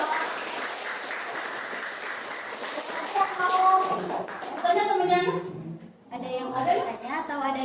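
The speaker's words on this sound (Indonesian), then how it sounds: "Oke, kasih tepuk tangan dulu Pak." Students in a school classroom give a round of applause, a few seconds of clapping that soon gives way to children's voices and chatter.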